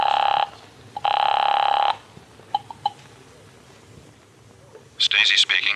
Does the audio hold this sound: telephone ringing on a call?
yes